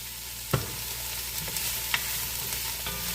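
Vegetables for chicken soup sauté in a pot with a soft, steady sizzle, punctuated by a few light stirring clinks and scrapes, close up and without talk.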